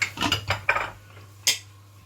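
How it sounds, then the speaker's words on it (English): A lid is set onto a metal cooking pot of simmering veg khima, giving a quick run of clattering metallic clinks, then a single sharper clank a moment later, close by with no talking. "And then what you need to do is put the lid on."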